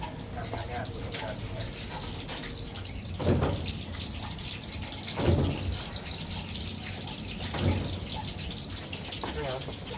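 Water poured onto vegetable plants in a garden, a steady close hiss of flowing and splashing water with a few louder gushes along the way.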